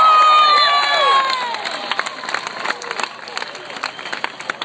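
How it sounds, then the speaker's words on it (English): Large crowd applauding and cheering for the Essendon Football Club players and coaches at a 2012 family day guernsey presentation, loud at first with shouts over clapping, then fading into scattered claps and voices. "Can we please have a huge round of applause for the Essendon Footy Club,"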